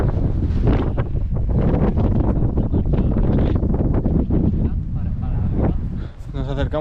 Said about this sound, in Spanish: hace un viento bastante potente